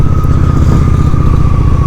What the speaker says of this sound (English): the diesel on that truck was horrible